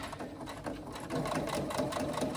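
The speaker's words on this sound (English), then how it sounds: "we need to stitch a 3/8 of an inch seam" A sewing machine runs a 3/8 inch seam on a carry-all tote, a quiet steady whir of rapid stitching that picks up in speed partway through, heard alone.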